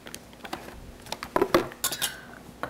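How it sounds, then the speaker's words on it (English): A knife cutting tofu into half-inch cubes on a cutting board, a string of irregular light taps and clinks, close by, with a few sharper knocks in the middle and no talking. "now I'm going to cut my tofu"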